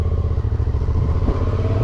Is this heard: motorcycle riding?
yes